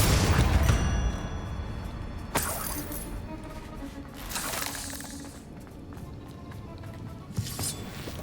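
Bombarda explosion spells cast during combat in Hogwarts Legacy: a heavy blast opens the fight, then several sharp shattering cracks and bursts follow over a rumbling, chaotic background of spell effects.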